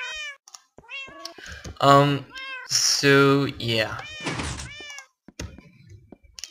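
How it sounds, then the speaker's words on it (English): Several Minecraft cats meow over and over in an overlapping, insistent chorus, loud and close, with someone talking briefly among the cries and a few soft thunks. "These cats are obnoxious."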